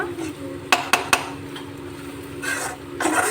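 Meal maker (soya chunk) curry is stirred in a pan, with a steady scraping rub and three sharp clinks of the spoon against the metal near the start.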